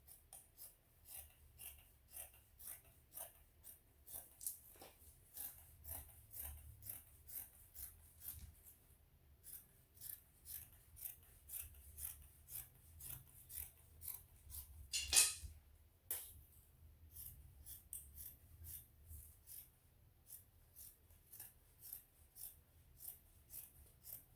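Scissors cutting out fabric pieces for shorts with a front band and elastic back, a close, steady series of crisp snipping clicks in a regular rhythm, with one sharper snap midway.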